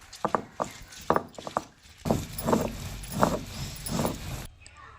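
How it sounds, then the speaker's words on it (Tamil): A stone roller works masala paste with a little water on an ammi grinding stone, producing rhythmic scraping and grinding strokes, first as short quick rubs and then as longer, louder back-and-forth passes. "இப்போ இது கூட கொஞ்சமாக தண்ணி சேர்த்து நல்லா ஃபைன் பேஸ்ட்டாக அரைச்சி எடுத்துக்கலாம்"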